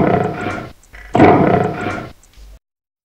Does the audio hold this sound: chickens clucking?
no